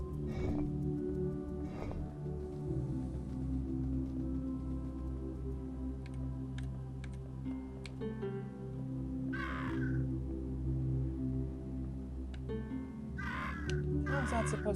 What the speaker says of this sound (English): Oh, come on, you stupid crow.